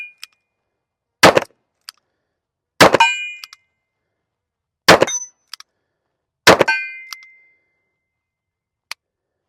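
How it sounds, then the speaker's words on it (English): A Heritage Manufacturing Roscoe .38 Special revolver being reloaded gives a few sharp metallic clanks and clicks, spaced apart with silence between them and fading rings after each. "Let's do a little reload."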